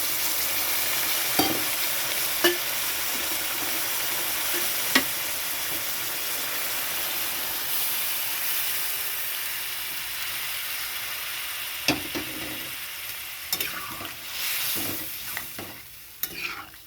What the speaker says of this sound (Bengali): এখন আমি জলটা দিয়ে দিচ্ছি